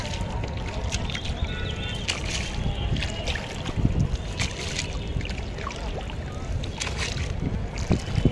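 A boat out on Nainital lake in the Mallital area at sunset, with a steady wash of water and wind noise running throughout and occasional faint voices in the background.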